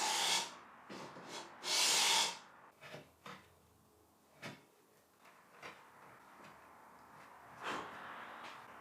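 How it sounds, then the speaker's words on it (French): Hand plane shaving a thin oak-veneer plywood panel to size, heard as scattered short rasping strokes, two louder broad swishes near the start followed by quieter scrapes and taps, with no talk. "Pour un ajustement parfait, j'ai utilisé le rabot à main pour la dimensionner."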